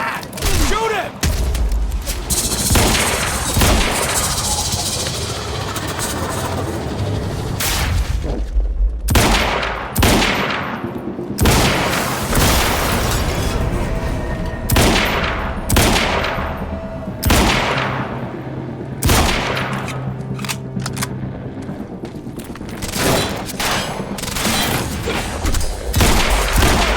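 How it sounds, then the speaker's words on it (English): Gunfire in the video game Quantum Break: dense bursts of automatic fire and single loud shots with booming impacts, repeated throughout, with shouted voices mixed in among the shooting. "He's got a gun! Open fire!"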